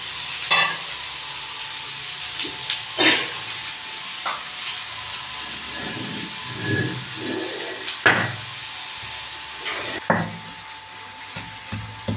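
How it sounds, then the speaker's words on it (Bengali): Chopped onions fry in a pan with dried red chillies, giving a soft continuous sizzle broken every couple of seconds by the scrape and knock of a stirring spoon against the pan, with no voices. "পেঁয়াজটা ভাজা হোক"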